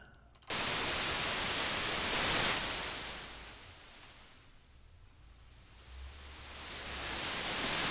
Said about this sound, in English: we can do the same thing with a white noise.